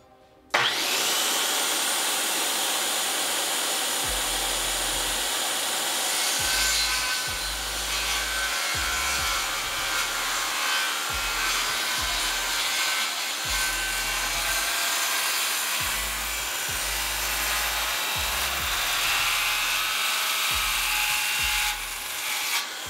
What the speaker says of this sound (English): let's make that cut